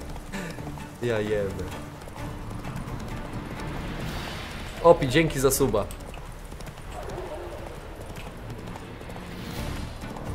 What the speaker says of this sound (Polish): Wsiada na konia.